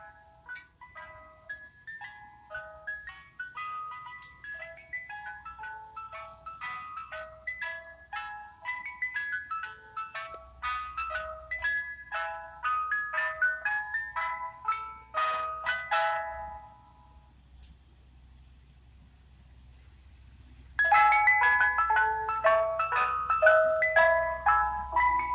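A Mister Softee ice cream truck arrives playing its tinkling jingle, which pauses briefly and then returns louder and nearer over a low engine rumble.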